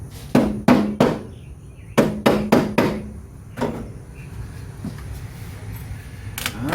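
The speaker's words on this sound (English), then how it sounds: "Got this old rubber beater. Let me see if we can get that off of there." A rubber mallet strikes a part on a 1974 Dodge D100 truck, a series of sharp, close thuds in quick bursts of two to four blows, then a few scattered hits.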